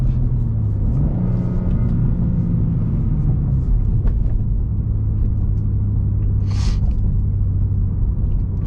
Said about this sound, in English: A little burbles. Everything on high. Yeah, boys, a little downshift.